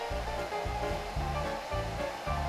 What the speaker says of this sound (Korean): 이번엔 수면 가까이에 헤어 드라이기를 대고 강한 바람을 발생시켜 보겠습니다.